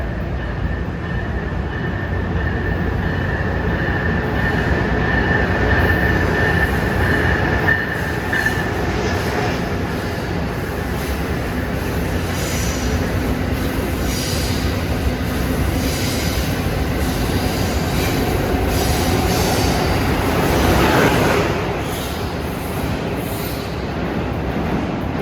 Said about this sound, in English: Coming on track 3 is Amtrak 2167, Boston to Washington.